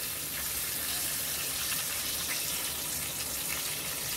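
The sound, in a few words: water being poured into tempering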